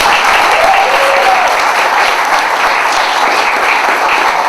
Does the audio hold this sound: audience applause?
yes